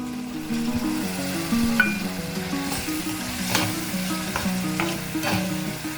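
Two large chopped tomatoes go into a pan with chopped green chilli and ginger, sizzling loudly and steadily while being stirred, with scraping stir strokes breaking through the frying hiss.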